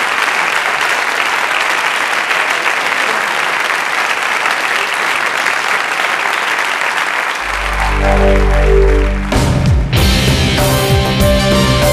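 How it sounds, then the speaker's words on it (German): Audience applause for comedian Reto Zeller at a live stage show, a loud, dense, steady ovation lasting most of the stretch, with music swelling in underneath near the end. "für den Reto Zeller nochmal einen herzlichen Applaus"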